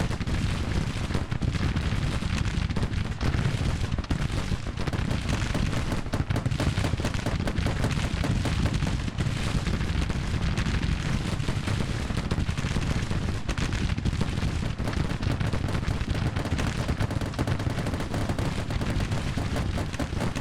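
Grand Tactician battle ambience: dense, continuous rumble of artillery and musket gunfire, loud and unbroken, with overlapping booms and crackling volleys throughout.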